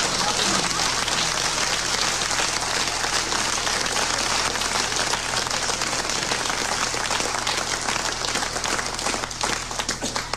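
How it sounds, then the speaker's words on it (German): Audience applause at a 1990 cabaret show at the Salzburger Stier: dense, continuous clapping from a large crowd that fills the whole stretch at an even, loud level, with voices mixed in. "Braucht ihr gar nicht zu klatschen"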